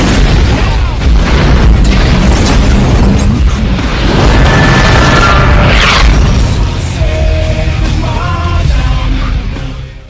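A car doused in gasoline explodes in a film scene, a heavy booming blast followed by a long rumbling roar and crackling debris, with shouting voices mixed in.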